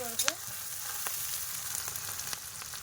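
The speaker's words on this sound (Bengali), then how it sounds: "এবারে দিয়ে দেবো পেঁয়াজ কুচি নাড়াচাড়া" Chopped onion frying in hot oil makes a close, steady sizzle, with a few sharp clinks of a utensil and soft stirring scrapes near the start, no talk.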